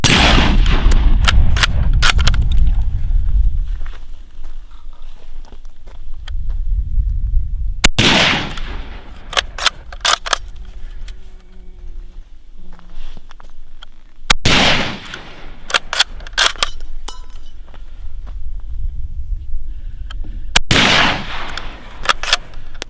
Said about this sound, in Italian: Stiamo sparando ovviamente solo a 50 metri